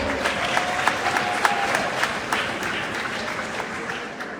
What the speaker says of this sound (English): Please let's clap for Jose.